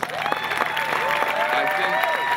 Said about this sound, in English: the organizers really deserve another round of applause